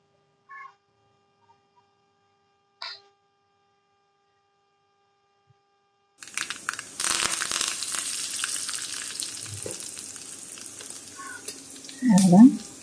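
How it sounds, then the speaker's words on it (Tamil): Mustard seeds, urad dal, dried chillies and curry leaves crackle and sizzle in hot oil for several seconds as a tempering for dal, following a few faint isolated clinks over near silence. "கடுகு, உளுத்தம்பருப்பு, காஞ்ச மிளகாய், கொஞ்சம் கருவேப்பிலை போட்டு தாளித்து பருப்பில் ஊற்றிடுங்க"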